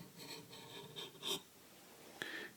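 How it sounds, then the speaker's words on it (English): A Micro Commander knife is sharpened freehand, producing a few short, raspy strokes of steel on the stone, close and fairly quiet, with pauses between them and a brief sharper scrape near the end. "It's sharpening this thing."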